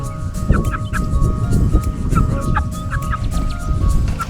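A roughly nine-week-old rooster gives short, repeated clucks close by over a constant low rumbling background.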